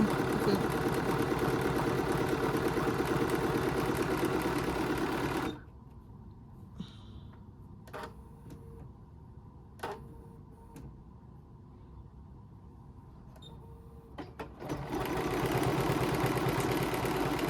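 A Bernina embroidery machine stitches a design with a loud, fast, even whirring rattle, then stops abruptly for several seconds of near quiet with a few clicks before the stitching resumes.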